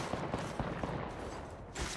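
Gunfire in Apex Legends: several sharp shots land in quick, uneven succession at close range over a steady background, with no talking.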